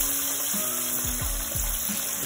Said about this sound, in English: We're just gonna flip it over to the other side and we'll let it fry for another 3 minutes